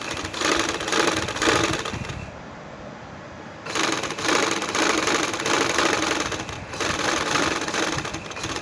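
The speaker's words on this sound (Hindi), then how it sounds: "इस तरह से मैंने जो है इसको सिलाई लगाया" A sewing machine rattles quickly along the edge of trouser fabric in close, loud bursts, pausing once for about a second before stitching on steadily.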